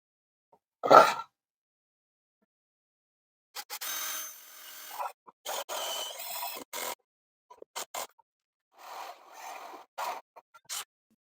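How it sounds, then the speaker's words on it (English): After a sharp knock, a 4-inch hole saw on a drill grinds through wood in several short, rasping bursts that start and stop, close by, with quiet pauses between. "now I will use my 4-inch hole saw to cut holes to make the planchettes"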